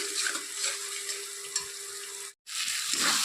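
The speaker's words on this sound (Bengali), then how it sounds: "মশলাটা ভালো করে ভাজতে হবে যতক্ষণ না মশলা থেকে তেল ছাড়ছে" Spice paste for a cauliflower and paneer curry frying in oil with a splash of water, giving a loud, continuous sizzle and hiss with faint stirring that cuts out for a moment, then resumes.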